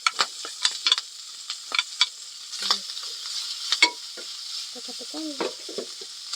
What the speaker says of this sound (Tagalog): Unahin natin itong inasinan para mantika. Para yung sarili niyang mantika ang ating gagamitin.